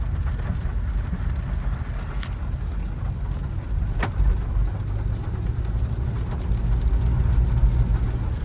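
Nissan Kicks 2016 automatic with CVT gearbox and an intermittent fault, heard from inside while driving: a continuous low road and engine rumble, steady and fairly loud, with faint rattles and no talk.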